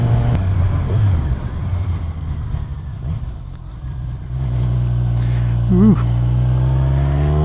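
A 2021 Kawasaki Z1000 motorcycle rides along Springwood Road, its engine droning steadily and loudly with wind buffeting, rising in pitch near the end as it accelerates, with a brief voice exclaiming once.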